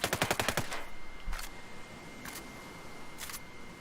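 Fast burst of full-auto fire from an ARX200 rifle in Ghost Recon Breakpoint, sharp rapid repeated shots opening loud, followed by three spaced single shots ringing out with trailing echo.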